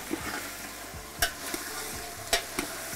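Cauliflower is tossed and stirred in a hot pan on a home stove, giving a constant hissing sizzle broken by a few sharp metallic scrapes and knocks, close and moderately loud, with no voices.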